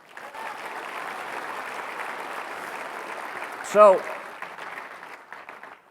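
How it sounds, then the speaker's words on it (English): Audience applause at a downtown civic address, a moderate steady round of clapping swelling to a brief whoop-like peak near the end before fading, with a voice speaking briefly over it. "Clap for that."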